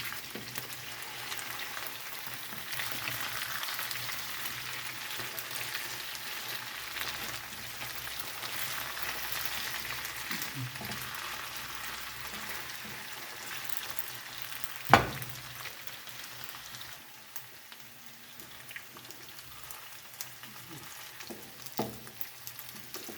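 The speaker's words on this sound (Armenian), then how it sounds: "տապակում եմ միսը, կտրատած միսը։" Chopped meat fries in a pan with a steady, soft sizzle and crackle throughout, fairly quiet, with one sharp clink partway through and a few light kitchen knocks near the end.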